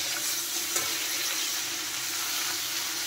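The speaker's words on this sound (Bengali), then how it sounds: "নুন হলুদ দিয়ে চিংড়ি মাছ ভালো করে ভেজে নেব।" Shrimp seasoned with salt and turmeric fry in a pan with a constant, dense close sizzle and hiss, steady throughout with one small pop near the start.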